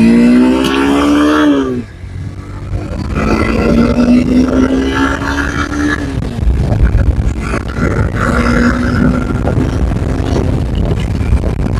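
Honda NX 200 motorcycle (2025 model) pulling away in first gear, its engine note climbing in pitch, dropping briefly at about two seconds, then rising again, loud and close with wind noise.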